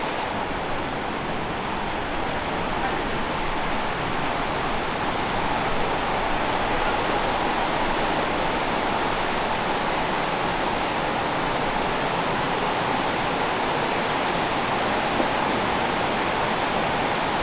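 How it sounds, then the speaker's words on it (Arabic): A waterfall tumbles down inside a mountain in Interlaken, Switzerland, a steady broadband roar of rushing water that stays constant and full throughout, close and loud with no break. "شلال في قلب الجبل"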